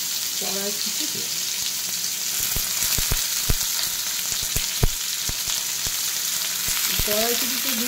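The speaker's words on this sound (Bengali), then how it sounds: "তার সাথে একটুখানি কড়াইশুঁটি দিয়ে" Green peas and small boiled potatoes frying in oil in a wok for aloo dum, a continuous close sizzle with sharp utensil knocks and scrapes, and brief talk at the start and end.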